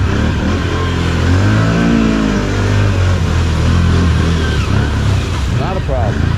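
An ATV engine revs hard and loud while pushing through a mud hole, its droning pitch rising and wavering continuously, with voices talking over it.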